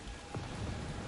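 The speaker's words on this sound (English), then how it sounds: "Peter Quill is dilly-dallying in the rain." Rain falls in the video game Guardians of the Galaxy, a faint, steady hiss of drops on surfaces with no voices.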